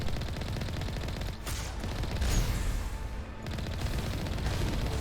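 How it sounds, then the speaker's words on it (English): Heavy weapons fire in the Mass Effect game on frozen Noveria, a dense continuous barrage of booming shots and blasts, loud and close, with brief dips in the roar. "These rockets they shoot are big as hell."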